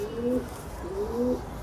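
A Punjabi pigeon coos twice nearby, each soft, rounded call gliding slightly upward, heard over a steady low background hum.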